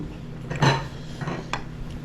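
Ceramic rice bowls and dishes clink while soup is served with a ladle at a family meal, a couple of close, bright knocks over a low room hum.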